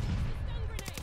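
Machine gun fire in a Call of Duty Vanguard multiplayer match, a quick run of sharp repeated shots arriving near the end over a low, rumbling battle backdrop.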